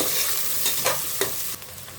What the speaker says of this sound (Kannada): ಇದನ್ನ ಇವಾಗ ಚೆನ್ನಾಗಿ ಫ್ರೈ ಮಾಡ್ಕೊಳ್ಳೋಣ